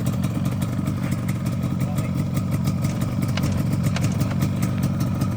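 A Yamaha RD two-stroke motorcycle with original paint and a non-matching-numbers engine runs steadily at idle, a loud, close, buzzing burble with light mechanical clatter throughout.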